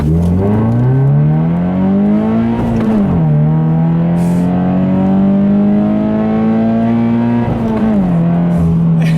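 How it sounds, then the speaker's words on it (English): A Subaru BRZ accelerates hard through the gears, its engine note climbing loudly, dropping briefly at two quick shifts around three and eight seconds, then rising again, close and sustained with no talk. "I'll leave you guys with a nice little acceleration here, like I always do."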